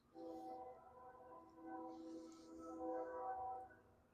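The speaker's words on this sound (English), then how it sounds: "Nothing like the sound of a distant train." A faint, distant train rumbles steadily with a soft horn-like tone swelling and fading, alone in an otherwise quiet setting.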